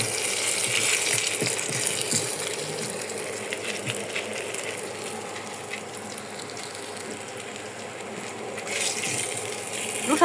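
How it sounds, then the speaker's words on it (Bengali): Fish fries crisp in a pan, a steady broadband sizzle with faint crackles running throughout, fairly close and even in level, with no talking. "মাছ ভাজাটা একবারে ক্রিস্পি ক্রিস্পি করে ভেজে নিচ্ছি।"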